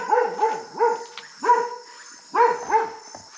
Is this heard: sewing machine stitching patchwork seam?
no